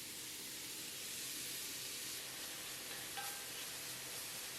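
Minced mushrooms frying in olive oil in a pot give a soft, steady sizzle with a faint hiss, quiet and continuous with no talk.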